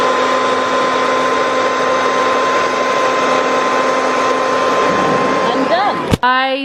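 A hair dryer blows steadily and loudly up close, fitted with a cut-out bottle top, its constant whirring roar holding until it cuts off near the end with a sharp click.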